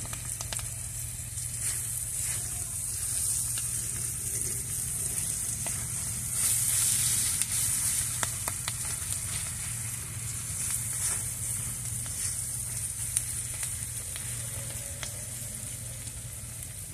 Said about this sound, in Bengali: এই যে ভালো করে ভাজা হয়ে গিয়েছে